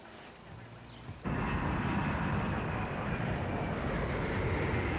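Airliner in flight heard from inside the cabin, a steady broadband roar that suddenly jumps louder after about a second and then holds constant.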